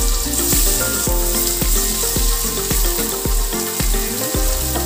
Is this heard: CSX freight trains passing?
no